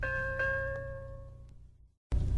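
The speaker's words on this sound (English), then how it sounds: "we always had the bell on a Spotmaster" A station-break bell fired from a Spotmaster cartridge machine on the Radio Caroline pirate station, a single bright chime with a second strike that rings out and decays over about two seconds, then silence before a burst of broadband noise.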